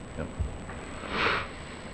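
A single person sniffles once in an indoor meeting room, a short soft breathy rush standing out faintly against low room hum.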